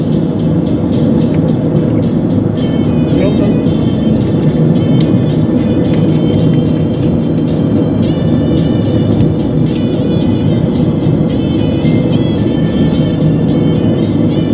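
A car drives along a road in Japan, heard from inside as a loud, constant low road and engine roar with steady tire noise and no break.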